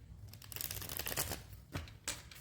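A deck of tarot cards being shuffled by hand, a dense run of crisp riffling and flicking followed by a couple of separate card slaps, close and fairly quiet with no voice over it.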